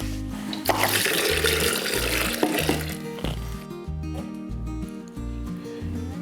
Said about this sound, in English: Three cups of water and a pinch